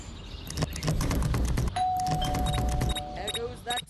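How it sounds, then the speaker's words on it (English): A doorbell rings in the Scary Teacher 3D mobile game, a clear sustained electronic chime with a sliding tone. It sounds over busy game noise and a character's voice, then fades near the end. "There goes that stupid bell again."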